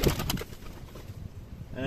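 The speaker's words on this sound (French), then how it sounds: "Donc là vous avez 2 tourterelles." A pair of turtle doves in an aviary kept alongside pigeons, giving a brief low coo at the start, then quieter background murmuring and a faint whistle at the end.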